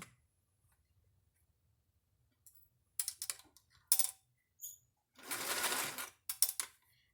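Short bursts of sewing machine stitching, a few quick whirs and clicks with pauses between, fairly quiet against a silent background.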